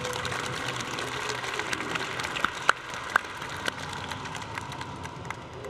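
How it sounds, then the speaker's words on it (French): Audience at a live drawing conference at Japan Expo claps in a thinner, uneven patter, with a few sharp louder claps standing out against a background hum of the hall. "D'ailleurs, on applaudit,"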